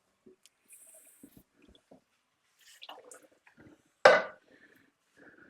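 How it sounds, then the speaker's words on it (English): Water sloshes and splashes inside empty metal tomato tins being rinsed into a cooking pot, a few quiet drips and clinks followed by one loud pour, with no talk. "Wash the tins out with a little bit of water."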